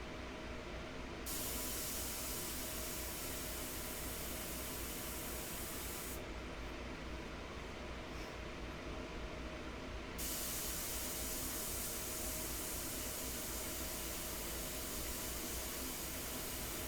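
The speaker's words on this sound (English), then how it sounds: "you guys are really going to love this airbrush" An Iwata airbrush sprays India ink onto paper, producing a continuous, even hiss of air that runs steadily throughout at moderate volume, with no voices.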